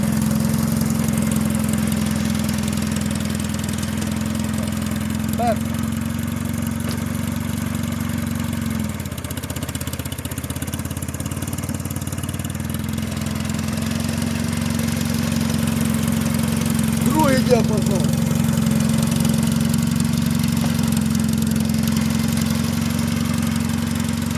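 A small diesel mini tractor engine running steadily in first gear of the third range, a constant low drone with a slight dip midway, heard close and alone.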